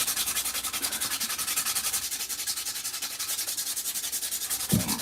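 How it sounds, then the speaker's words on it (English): A wooden steampunk skull carving is sanded by hand with fast, even back-and-forth rubbing strokes, close and continuous, with no talking. "So yeah, I'll be sanding."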